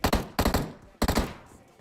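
Gunfire in the mobile battle royale game PUBG Mobile: two quick bursts of rapid, sharp shots, each a cluster of three or four cracks, with a short pause between them, loud and close.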